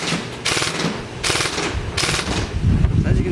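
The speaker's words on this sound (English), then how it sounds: "now we're going to do a little rate of fire test" Systema PTW M4A1 Max II airsoft rifle firing in a rate of fire test, loud rapid full-auto bursts with a mechanical buzzing chatter, several bursts separated by brief pauses, close to the listener.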